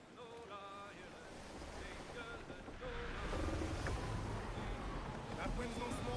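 Gale wind and ocean waves in a sailing video game: a continuous rushing roar of wind and surf that swells louder midway, with voices speaking over it.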